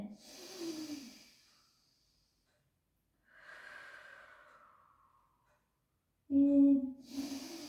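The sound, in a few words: person breathing in deeply during stretching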